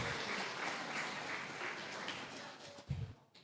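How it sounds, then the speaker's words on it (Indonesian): Audience applause at an economics talk, a steady dense clatter of many hands lasting about three seconds before trailing off into a brief voice and quiet. "Loh kok tepuk tangan?"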